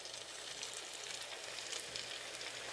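Egg rolls fry in hot oil over medium-high heat, a steady, soft, bright sizzle with fine crackling that runs evenly without a break.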